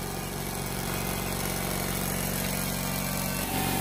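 An air compressor runs with a steady, dense mechanical drone and a fine pulsing rumble underneath. The sound is continuous, close and fairly loud, with no talk over it.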